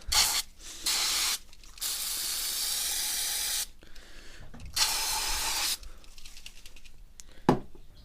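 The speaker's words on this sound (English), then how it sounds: "I'm gonna spray some more because you can never have enough." Long hissing bursts of aerosol cleaner sprayed from a can onto Calibra car engine parts, several in a row with short pauses between, close and loud.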